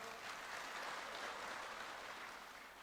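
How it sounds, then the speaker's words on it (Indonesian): Audience applause at a political event where party leaders are being welcomed, a steady wash of clapping from a crowd, fairly distant and soft, holding evenly before easing slightly at the end. "Ya, kita aplaus."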